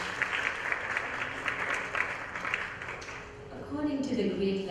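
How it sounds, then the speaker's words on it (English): Audience applause at a Bharatanatyam arangetram recital, steady clapping throughout under a speaking voice, with a sustained tone entering near the end. "Another round of applause for Saanj."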